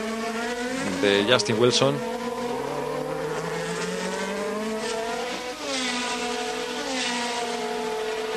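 Formula 3000 race cars at Spa brake and overtake, engines whining loudly with rising and falling pitch. A brief downshift burst is followed by a sustained high drone as a car passes. A commentator talks over the engines throughout.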